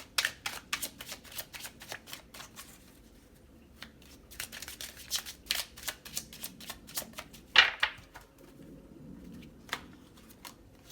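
A deck of tarot cards is shuffled over and over. Bursts of crisp riffling and flicking come in uneven clusters with short pauses between them, close and fairly loud, with no voices.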